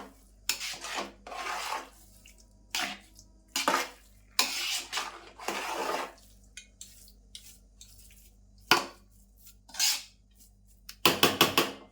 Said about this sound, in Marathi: तर मुळापासून असा ढवळून घ्यायचा.